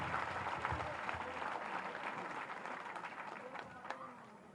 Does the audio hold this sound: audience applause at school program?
yes